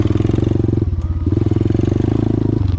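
A DB Tao pit bike engine runs while riding through the woods, a loud, close, steady throbbing drone that dips briefly as the throttle eases, then picks back up.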